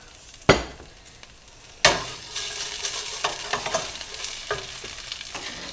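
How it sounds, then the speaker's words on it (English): Chopped celery and carrots hit hot oil in a pot with two sharp splashes, then sizzle loudly while being stirred, with scattered scraping and clinks of a utensil against the pan. "I want to sear my vegetables"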